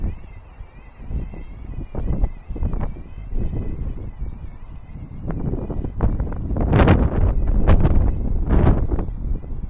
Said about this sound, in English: That wind is zipping, kids.